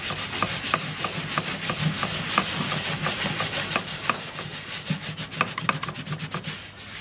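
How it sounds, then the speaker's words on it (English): Hot melt glue residue rubbed off a surface after spraying with EV60 cleaner, producing a continuous close scratchy friction sound in quick repeated strokes with small sharper ticks, loud and steady, with no talking. "after a little bit of rubbing, it's come off."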